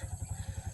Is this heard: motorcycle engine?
yes